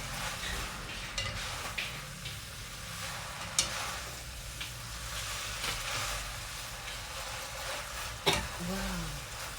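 A creamy pesto pasta sauce is stirred in a pan, giving a steady soft sizzle with scraping and stirring textures and occasional clinks of a utensil against the pan. A voice talks briefly near the end.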